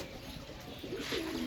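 Soft cooing of golden pigeons on a rooftop, a low warbling call that swells toward the end over faint background hiss, with no talk.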